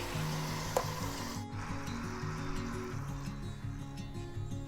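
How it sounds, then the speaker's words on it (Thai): A self-heating hot cup reacts with room-temperature water, giving a faint, continuous bubbling and fizzing sizzle heard close up with no talking. "เริ่มมีปฏิกิริยาขึ้นมาแล้วนะครับ เดือด เดือดเร็วมาก"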